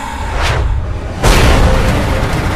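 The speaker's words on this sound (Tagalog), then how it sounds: "Isang umaalingaw-ngaw ng pagputok ng baril ang kanyang narinig" A loud, booming gunshot sound effect rings out in a narrated Filipino horror story about an aswang creature, a sharp burst followed by a lingering echoing rumble with no talk over it.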